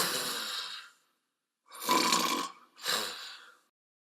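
A person imitates snoring while looking straight ahead, producing three rough, breathy snore-like bursts with short pauses between them, close and fairly loud.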